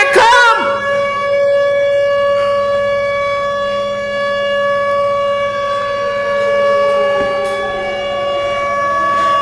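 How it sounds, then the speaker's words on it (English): A loud siren sound effect wails continuously with steady sustained tones, starting with a sharp burst and then holding a rising and falling pitch throughout, with no talk over it. "Where them sirens at?"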